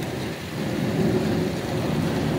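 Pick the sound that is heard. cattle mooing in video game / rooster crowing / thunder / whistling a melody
thunder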